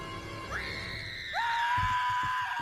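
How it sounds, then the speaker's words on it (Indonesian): Child and monster screaming in the animated film Monsters Inc: one shrill scream rises and holds, then a second, louder scream joins and sustains at a high pitch, with background noise underneath. "Anak itu pun terbangun dan menjerit. Namun monster itu pun kaget dan ikut menjerit."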